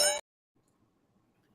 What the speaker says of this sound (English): Ring the bell. Ring it.